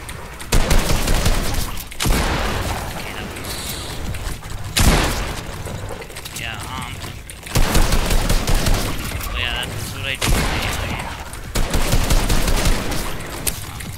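Video game gunfire rings out as zombies are shot on a warmup map: repeated loud bursts of rapid automatic fire and booming shots, separated by brief lulls, with faint mechanical clicks between volleys.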